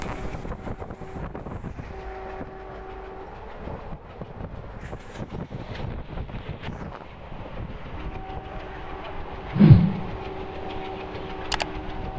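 A train running at high speed after leaving New Bongaigaon, a steady rumbling roar with rhythmic clatter of wheels on rails and a brief horn blast near the end, heard from aboard with no talking.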